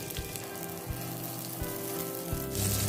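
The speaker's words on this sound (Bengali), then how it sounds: "আদা রসুন কুচিটাকে 1 মিনিটের মতো ফ্রাই করে নেওয়ার পর কালারটা যখন চেঞ্জ হয়ে আসবে" Chopped ginger and garlic fry in a pan for a restaurant-style chilli chicken, a steady close sizzle and crackle running throughout with no talk, growing slightly louder near the end.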